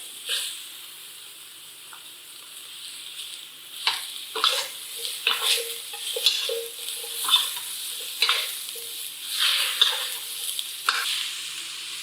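Celery and peppers stir-fry in a hot pan. A quiet hiss swells into a loud crackling sizzle, broken by repeated tossing and scraping strokes at an uneven rhythm.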